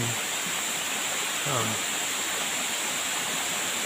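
A constant, heavy rush of falling water at Nalalata Falls, Bula, Camarines Sur, Philippines, roars loudly and evenly, with a brief voice faintly audible beneath it.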